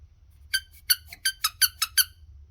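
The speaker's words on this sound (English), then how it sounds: "It's the squeaky ball." A squeaky ball toy squeaks about seven times in quick, uneven succession, bright and close with nothing else around it.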